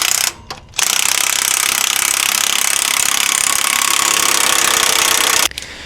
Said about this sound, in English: Now you will have to tighten this and push the pulley in. So I'm going to do that with the rattle gun.